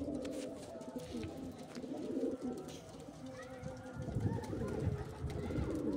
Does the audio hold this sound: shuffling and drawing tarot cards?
no